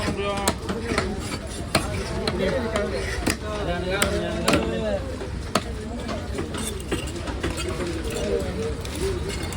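A fish being cut with sharp, irregular knife chops striking a board at a busy market stall, close by, under continuous chatter from several people and background clatter.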